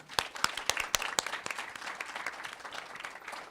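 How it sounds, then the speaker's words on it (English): Applause from the audience at a Women in Wireless panel on women in ML and AI, beginning with a few sharp separate claps that blend into a moderate, steady patter of many hands. "Let's give a round of applause to these women who are with the Women in Wireless"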